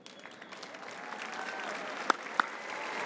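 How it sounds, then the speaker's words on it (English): A high school graduation crowd stands and applauds the graduates' parents and families. The clapping is moderate and spread out, with a couple of sharp, louder claps standing out near the end. "I want to ask all of the parents, guardians, family, and friends of our graduates to stand up so that we can recognize you and give you a round of applause."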